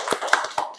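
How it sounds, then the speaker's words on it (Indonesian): A few sharp, separate hand claps ring out in a police podcast studio, sparse and close rather than a full round of applause. "tepuk tangan buat Bapak"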